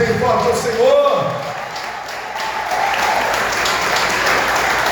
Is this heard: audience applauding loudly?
yes